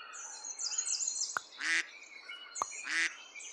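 Two separate duck quacks from the video game Turtle Pack, each a short bright call preceded by a click, set over soft game music with no talking.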